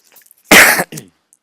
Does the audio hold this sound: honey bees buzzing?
no